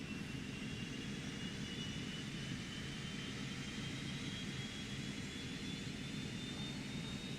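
The second jet engine of a Cessna Citation Mustang starts in X-Plane 11, giving a continuous loud turbine roar with a faint rising whine, steady and uninterrupted, with no voices.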